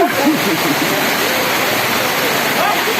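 Steady rushing of flowing water fills the clip, loud and continuous, with faint voices briefly audible beneath it.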